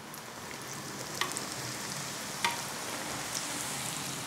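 Lumpia filling deep-frying in hot oil gives a steady, even crackling hiss across the whole stretch, broken by two sharp clinks near the middle.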